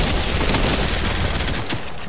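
Rapid bursts of automatic gunfire from a video game firefight, dense and continuous throughout with sharp repeated shots layered over one another, loud and close with no voices.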